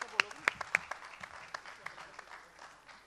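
An audience at a ghazal evening and poets' gathering in Ahmedabad claps to welcome a young actress to the stage, with a few sharp individual claps standing out at first, then steady applause that gradually fades.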